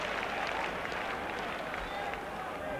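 Stadium crowd at a Tottenham versus Newcastle football match, a steady broad roar with rising cheers and some scattered clapping, loud and continuous throughout.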